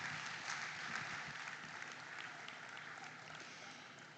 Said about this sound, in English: So let's give them all a nice round of applause,